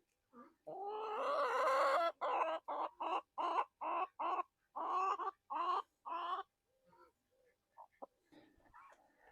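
Hens in a UK backyard cluck in a quick, choppy run of short calls after one drawn-out squawk, fairly close, then trail off into a few faint scattered clucks.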